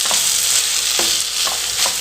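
Cooked rice being stirred with oil in a hot pan: continuous sizzle with soft scraping strokes of the spoon recurring every half second or so, close and steady, with no voices.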